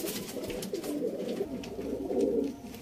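Rampuri pigeons coo in soft, throaty rolling phrases, several overlapping calls rising and falling close by over about three seconds, with a louder burst toward the end.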